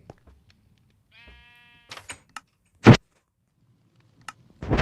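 Sheep bleat in Minecraft while a player builds a sheep pen beside a modern house: a short wavering bleat followed by a few sharp clicks and two loud bursts, quiet otherwise, with no talking.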